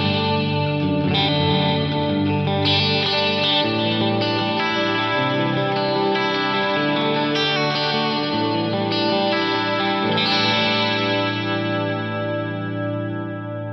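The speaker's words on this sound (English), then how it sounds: "Maybe I could go in and just add a little bit of this plate reverb in there" A sustained chord played through a Lexicon PCM81 chorus algorithm with plate reverb added, shimmering and swirling while smooth reverb tails let the rich tone ring out, loud and continuous, slowly fading near the end.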